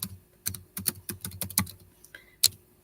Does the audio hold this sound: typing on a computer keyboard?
yes